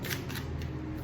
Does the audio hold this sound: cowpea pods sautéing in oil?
no